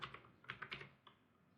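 Quiet clicking on a computer keyboard while entering Linux configuration text, a short run of about half a dozen light, close keystrokes that trails into near silence, with no talking.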